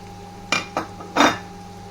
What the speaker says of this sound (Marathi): हळद चांगली परतून घ्यायची त्याच्यामध्ये दोन तीन मिनटं चांगली भाजून घेतली